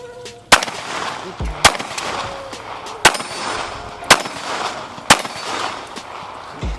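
Five sharp Glock 19 pistol shots fired roughly one second apart at an outdoor range, loud and close, each a crisp crack followed by a short outdoor tail over a low background wash.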